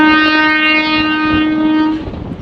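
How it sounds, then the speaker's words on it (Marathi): A train passing on a railway line, sounding a loud, sustained horn close by that cuts off near the end, leaving the rumble of rolling wagons. "हे बघा आता जस्ट रेल्वे आलेली"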